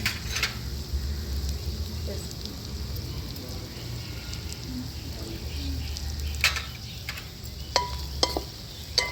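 Masala chicken fry stirred in a pan over a wood-fired stove, a continuous sizzle with scraping and occasional sharp clinks of a utensil against the pan, steady and close throughout.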